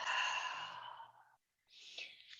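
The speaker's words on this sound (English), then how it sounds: "It's a little bit like a Darth Vader breath" Slow, breathy exhale in a yoga flow, a long hissing breath lasting over a second, then a pause and a shorter second breath, close and fairly loud with no talking.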